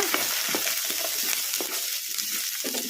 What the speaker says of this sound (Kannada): ಉಳ್ಳಾಗಡ್ಡಿ ಲೈಟ್ ಬ್ರೌನ್ ಕಲರ್ ಬರೋವರೆಗೂ ಫ್ರೈ ಮಾಡ್ಕೊಂಬಿಡೋಣ